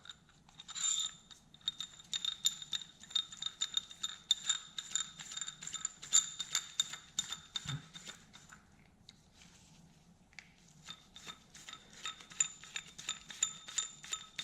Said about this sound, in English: Screw the ball back on.